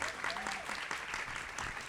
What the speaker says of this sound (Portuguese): Vamos dar palmas para a Clara enquanto ela não chega.